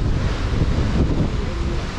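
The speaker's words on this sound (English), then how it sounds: "we can't half hear those waves crashing" Sea waves crash at the end of the pier in Penarth, South Wales, a loud, steady, wind-blown surf roar filling the whole stretch.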